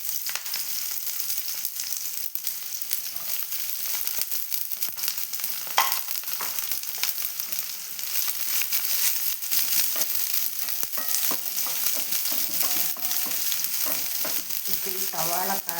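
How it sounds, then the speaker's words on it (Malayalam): Sliced onions fry in hot coconut oil in a pan, a steady close sizzle running throughout, with scraping stirs and occasional crackles and pops from mustard seeds. "ഇനി ഞാൻ സവാള ഇട്ടു"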